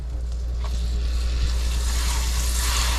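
A pat of butter sizzling in a hot pan while a grilled cheese sandwich cooks, a steady, loud hiss and crackle that holds close throughout.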